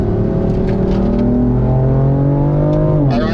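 A BMW M car pulls hard out of a corner on a driving school track, its engine note rising steadily under acceleration, loud and close from inside the cabin, with a brief shift in pitch near the end.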